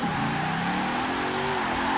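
A Chevrolet C8 drifting in Forza Horizon 4 on Fortune Island, its engine holding a loud, steady high-revving drone with tire noise throughout, close and continuous.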